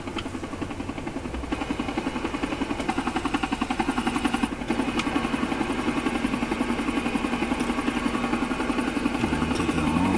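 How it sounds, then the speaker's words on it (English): Helicopter in the game GTA IV, a steady rotor-and-engine drone with rhythmic pulsing that holds close and loud for the whole stretch, no voices over it. "The port you came in, here's the freaking heli chopper."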